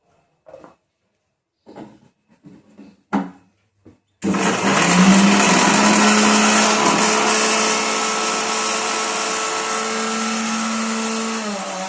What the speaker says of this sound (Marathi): याला जरा भुनून घ्यायचं मिक्सरला